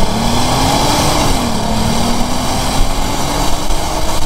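A Volkswagen VR6 engine revs steadily with its exhaust flap valve open, giving a loud, close, continuous drone whose pitch rises and dips slightly; no one speaks.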